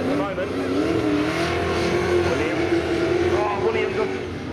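Saloon race cars running side by side in a drag to the finish line, their engines droning loud and close with a shifting, rising whine, a commentator's voice running over the engine noise.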